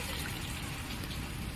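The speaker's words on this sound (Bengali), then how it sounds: "এখানে আমি একটু ওই সরষের বাটিটা সামান্য ধুয়ে ওই জলটা আমি একটু দিয়ে দিলাম" A small splash of water from a rinsed mustard-paste bowl is poured into a pan for mustard hilsa curry, giving a steady soft trickle that runs for a moment, close by and faint, with no talk.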